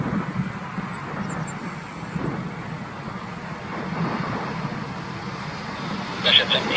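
An Airbus A330 on short final to land at Vancouver YVR, heard as a steady low engine rumble of moderate loudness throughout, with faint background noise and a brief higher-pitched chirp near the end.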